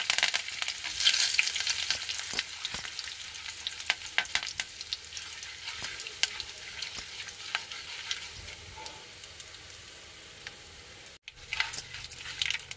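Chana dal, urad dal and curry leaves sizzle in hot oil for a tempering, a steady crackling fry with scattered sharp pops and spoon scrapes, close and fairly quiet, no voices.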